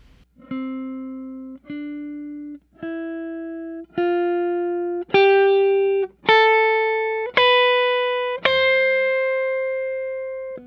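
Eight guitar notes climb one after another, each held and ringing, starting soft and growing steadily louder.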